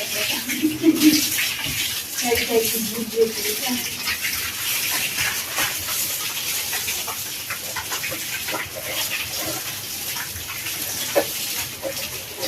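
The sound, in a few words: water filling storage containers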